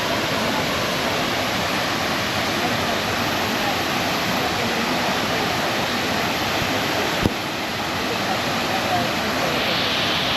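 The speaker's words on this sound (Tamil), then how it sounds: "பின்னாடி தெரியறது தான் கைகள் ஃபால்ஸு" Kaigal Falls, a waterfall, roars as a steady broadband rush throughout, loud and continuous, with a single brief click partway through and no clear talk over it.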